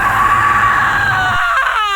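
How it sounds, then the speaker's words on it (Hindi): A man's loud, drawn-out anguished scream in a Hindi horror story narration holds a strained, wavering pitch and then falls away at the end, close and intense with no speech over it. "ब्रिजलाल बहुत चीखा"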